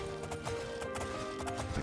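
Horse galloping in a fantasy role-playing video game, a rapid steady clip-clop of hooves over a continuous game backdrop, moderately quiet with no talking.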